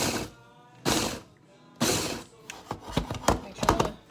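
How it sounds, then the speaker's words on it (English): A food processor pulsed to break up snack ingredients, giving about three short loud whirring bursts with mechanical rattling, followed by clattering knocks of pieces settling. "So you're just gonna pulse the machine."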